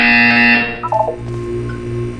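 A short electronic buzzer sounds from the Portal 2 video game, a bright tonal blast that fades into a few quick descending beeps over a low steady hum.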